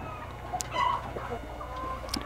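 Hens clucking inside a poultry house on a Saudi Arabian chicken farm, scattered soft clucks and a couple of sharp higher calls over a low steady background hum, no talking.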